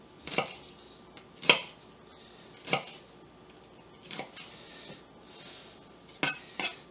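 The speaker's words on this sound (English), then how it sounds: "The knife is cutting the fibers, provided that the fibers are on top." Knife chopping vegetables for bean soup on a board, about eight sharp separate cuts at irregular intervals, close and clear with quiet gaps between.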